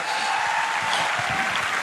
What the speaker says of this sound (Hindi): अरे भाई साहब ताली तो बजा दो यार